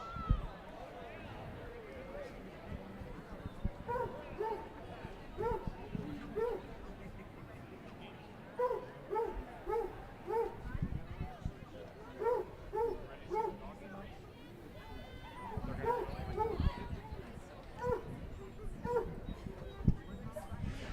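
Basset hounds barking and baying at Canterbury Park before a 100-yard race, with repeated bursts of barks over a steady crowd murmur and an announcer's voice.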